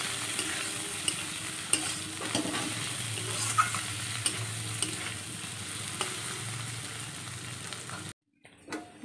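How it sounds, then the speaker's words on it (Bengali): Egg omelette curry with potato, onion, ginger, garlic and spices frying in a pan, a steady close sizzle with scraping stirs throughout and no talk, cutting off abruptly near the end. "ডিম ভেজে কারি হচ্ছে, মানে ডিমের অমলেটের তরকারি"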